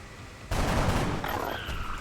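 A gunshot in the video game XCOM Enemy Within goes off as a sudden loud burst of fire that tails into a rumbling, ringing decay, with a brief high tone near the end and no talk.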